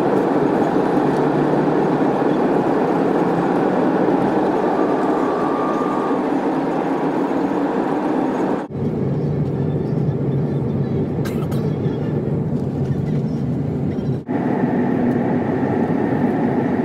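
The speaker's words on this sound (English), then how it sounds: "This train is approaching the station." Train pulling into a station in Spain, a loud continuous rumble and rolling hum with a faint tonal whine, two abrupt shifts in the noise, nothing spoken.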